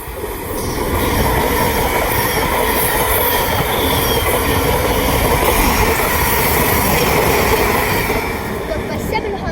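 A Thameslink train runs through West Hampstead station, a close, loud steady rumble of wheels on rail with squealing and clacking throughout, with a voice faintly heard.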